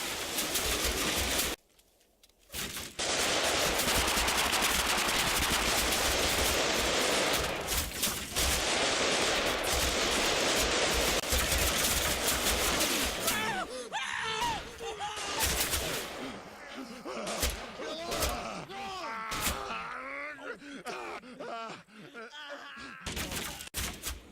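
Gunfire from the World War II tactics game Combat Mission Final Blitzkrieg, with a squad firing on scouts near Grosshau: dense, loud bursts of shots and explosions run continuously, briefly drop out, then thin into scattered cracks and impacts.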